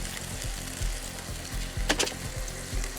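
Capers and lemon juice sizzle in a white wine pan sauce, a steady soft frying hiss with a few utensil taps and one brief louder burst of crackle near the middle.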